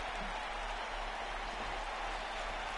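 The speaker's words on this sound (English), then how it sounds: "The crowd showing their appreciation to these team." At a wrestling match, an indoor crowd claps in a dense, even wash of applause that carries through the whole stretch without letup.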